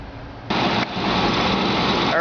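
Newly installed electric radiator cooling fans on a hydrogen project vehicle switch up and run with a steady, loud whirring roar that steps up in intensity about halfway through and holds continuously to the end.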